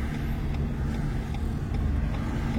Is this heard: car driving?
yes